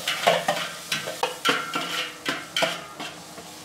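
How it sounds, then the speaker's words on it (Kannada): Masala for jackfruit biryani frying in a pan, crackling sizzle under a run of rhythmic spoon strokes scraping the pan about every half second, close and fairly loud, no voices. "ನೋಡಿ ಫ್ರೈ ಆಗ್ತಿದೆ."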